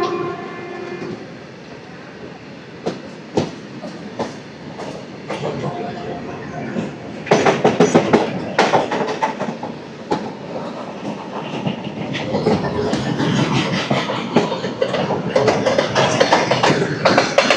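Pinakini Superfast Express rolling along the tracks after leaving Tenali Junction, with a steady loud rumble, repeated rhythmic wheel clacks and bursts of heavier rattling throughout.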